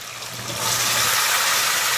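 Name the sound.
water poured into a hot pot for pork locrio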